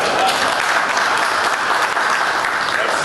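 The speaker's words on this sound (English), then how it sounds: "Can we have a round of applause?" Steady, full round of applause from an audience at a Zambian official ceremony, dense clapping holding at an even loud level throughout without pause.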